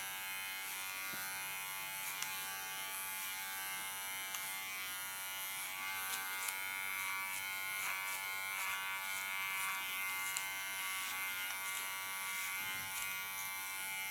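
An electric hair clipper buzzes steadily and continuously as it cuts fine hair, using a comb as a guard, with no talking over the hum.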